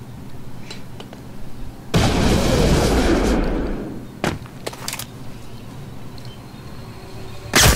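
A grenade goes off in Splinter Cell: Blacklist, a loud, close blast with a rumbling tail of about two seconds, surrounded by sharper scattered cracks and pops before and after.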